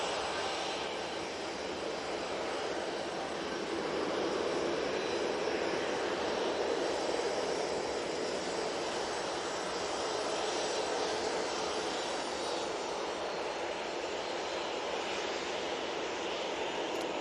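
EasyJet airliner engines at Manchester Airport, a steady, broad jet roar held at a constant level throughout at moderate distance.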